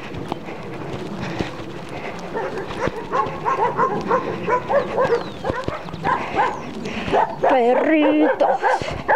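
Several dogs barking and yipping along a mountain-bike trail, repeated sharp barks rising in intensity toward the end, mixed with a person talking.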